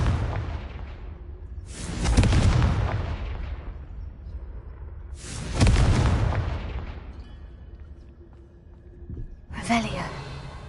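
Three loud Confringo blasting-spell explosions from the Hogwarts Legacy video game burst out about four seconds apart, each a sharp boom that trails off into a long rumbling decay, with faint ambient game sound between them.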